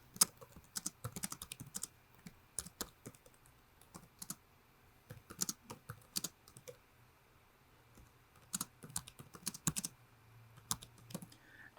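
Keys clatter on a computer keyboard as a description is typed in, coming in bursts of quick, close clicks broken by short pauses.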